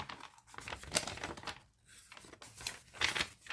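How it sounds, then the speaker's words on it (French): Junk journal pages of different papers and textures rustle and crinkle as they are flipped one after another, a soft, close, papery swishing with no talking. "C'est ce bruit en fait quand on feuillette un junk en fait que j'aime bien."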